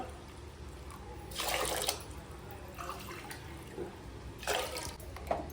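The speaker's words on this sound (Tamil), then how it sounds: "அஞ்சு அஞ்சு கப் தண்ணி எடுத்துக்கலாம்" Water pours in a few short splashing bursts over a steady low background hum, with quiet pauses between the pours, as water is added to moong dal lentils for cooking.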